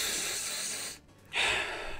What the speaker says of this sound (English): You like my sniffles?